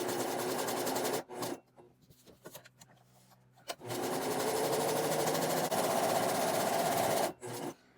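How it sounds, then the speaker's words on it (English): Sewing machine stitching fabric pieces for a simple DIY face mask, running in steady sustained bursts of close mechanical whirring, with a short pause partway through and a brief stop near the end. "So I come over to my sewing machine with my piles of these."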